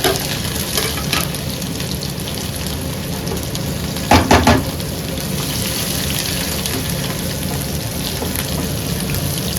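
Garlic and ginger sizzle steadily in hot oil for a tadka, close and loud, with a short cluster of spatula clatter near the middle and no speech.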